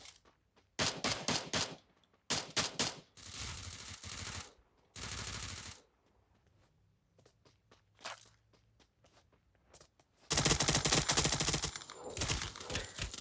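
Bursts of automatic gunfire from the Free Fire battle royale video game crackle in rapid strings, separated by quieter stretches with scattered single shots and footsteps. The longest, loudest volley comes near the end.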